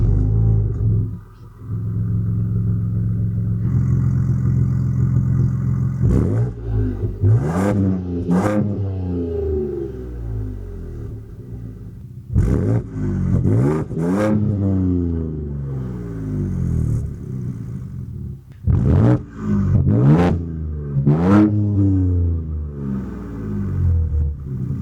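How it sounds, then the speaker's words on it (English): A 2025 Ford Ranger Raptor V6 pickup's dual exhaust rumbles at idle, then revs sharply in three separate bursts of rising and falling engine roar, close and loud. "So we have dual exhausts in this truck, and they also sound much better."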